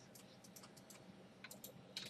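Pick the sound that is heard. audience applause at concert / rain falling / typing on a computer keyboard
typing on a computer keyboard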